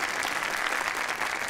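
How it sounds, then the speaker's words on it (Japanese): Dense, continuous crowd applause in the video game Yakuza 0, a steady wash of many hands clapping at once with no gaps. "こちらのお客様にも拍手を"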